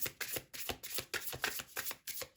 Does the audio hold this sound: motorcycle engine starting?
no